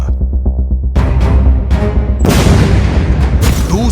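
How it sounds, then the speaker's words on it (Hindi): A low rumble gives way to two or three loud, sharp booms of military strikes in the Israel–Hamas conflict in quick succession, each followed by crackling debris noise, close and powerful. "दूसरा धमाका,"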